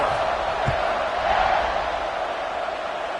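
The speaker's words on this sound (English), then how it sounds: "this crowd is buzzing after that last score" A stadium crowd at an American football game keeps up a broad, steady roar and murmur after a touchdown, a sustained crowd noise with no clear peaks.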